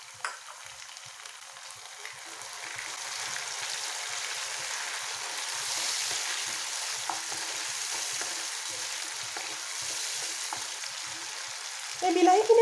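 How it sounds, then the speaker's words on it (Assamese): Chopped tomato frying in plenty of oil in a pan for a dry fish chutney hisses steadily, close and moderately loud, building slightly and ending in a louder clatter. "এই বিলাহীখিনি ভালদৰে সিজি লোৱালৈকে আমি পুনৰ ইয়াক ভাজিম।"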